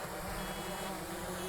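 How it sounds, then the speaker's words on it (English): A PowerVision PowerEgg X drone controller beeps during return-to-landing mode, a steady repeating tone sitting over constant broadband wind and motor noise outdoors. "So you can hear when it's in RTL, return to landing, it's making that beeping on the controller."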